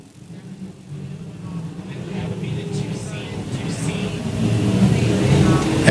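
Sprint cars roar down the front straightaway at a short-track raceway, engine noise building steadily louder as they approach, with a race announcer talking over it.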